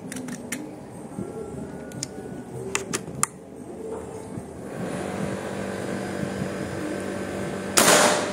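A Mauser Malabar PCP air rifle loaded with Hercules pellets during an accuracy test: soft clicks and handling noise, then one sharp, loud shot near the end over a low background hum.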